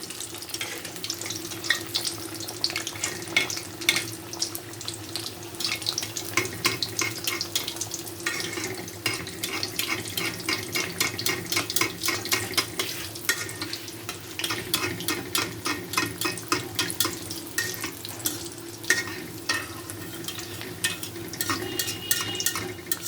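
Dal puri frying in hot oil over a low gas flame makes a steady, moderately loud bubbling sizzle, continuous with a fine crackling texture across the whole stretch.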